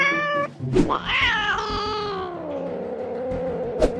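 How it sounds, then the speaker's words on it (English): A kitten in the Minecraft video game gives a few drawn-out, rising and falling meows, loud and close, with a couple of short clicks between them. "Wow, look, it's a kitten."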